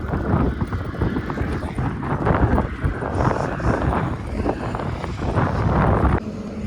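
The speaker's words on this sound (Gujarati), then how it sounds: "અહીંયા પવન કંઈ માતો નથી" Strong wind near Dwarka roars and buffets the microphone in heavy, uneven gusts, then drops slightly near the end.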